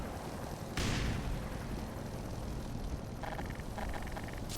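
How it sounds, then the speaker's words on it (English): Gunfire and crackling electric weapon effects from a sci-fi first-person shooter, a loud burst of shots followed by dense continuous firing and bursts of buzzing electric zaps toward the end. "wait for the gunfire to stop, wait for the electric sounds to stop"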